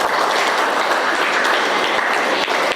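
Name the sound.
applause in a classroom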